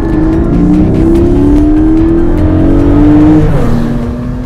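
Loud engine of a 2020 Porsche 718 sports car, Cayman GT4 or Spyder, revving hard at high RPM in first gear, pitch climbing steadily for several seconds before a brief shift, close and continuous.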